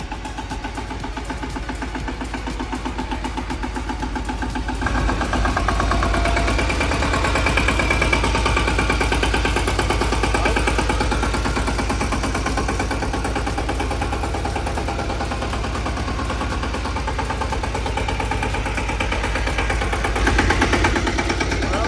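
A Ravindra mini tractor's engine runs steadily in first gear, a loud, continuous mechanical chug with a rapid rattling pulse that holds at an even level throughout, with no voices.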